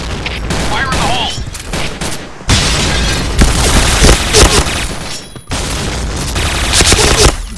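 Gunfire and a grenade blast in the online shooter Point Blank, loud and dense, with rapid automatic bursts and booming hits under game voice callouts.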